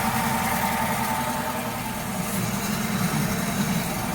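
Close, loud idle of a Toyota Noah engine with a worn bearing: a continuous rough rumble and gritty mechanical whir that stays even and unbroken, no voices.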